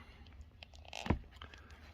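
A sharp crack and snap in the middle as a cell pack is broken off a VAG key fob battery, with soft handling and faint clicks before and after, close and quiet.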